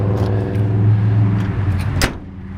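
The door of a 1969 Chevrolet Camaro RS, with slightly sagging hinges, swings shut with a single solid thunk near the end, after a steady low rumble that sounds like a nearby engine idling.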